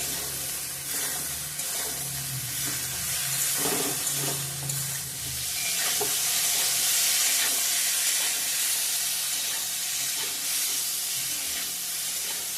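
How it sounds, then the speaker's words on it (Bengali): Bitter gourd (karela) frying in hot oil gives a loud, continuous hissing sizzle, with occasional soft stirring knocks near the start. "করলাটা অর্ধেক ভাজা ভাজা হয়েছে"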